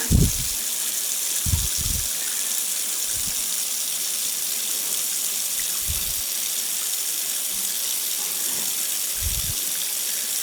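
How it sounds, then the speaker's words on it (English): Water gushing from a household tap after a whole-house water filter change, a steady broadband rush with a few brief sputters of air near the start and scattered through. "That wouldn't be the new water yet. That's gone through the filter."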